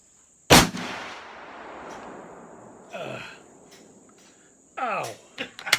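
An 8 mm Mauser rifle fires once outdoors at dusk on a 50-yard range, a loud sharp crack with a long rolling echo. Crickets chirp throughout, and faint voices follow.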